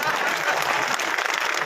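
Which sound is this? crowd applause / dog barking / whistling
crowd applause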